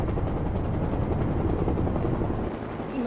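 Anime helicopter flying, a loud, dense, continuous rotor thrum that holds steady and drops slightly near the end, with no voices.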